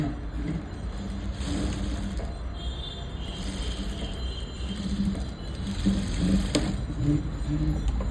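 A sewing machine stitches a blouse, running in a soft steady mechanical whir at close range with a faint metallic clink, fairly quiet throughout.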